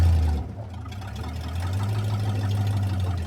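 A car engine that has just laid a one-wheel peel burnout runs close and loud with a steady, lumpy, knocking note, briefly dipping before settling back into a rough, even idle.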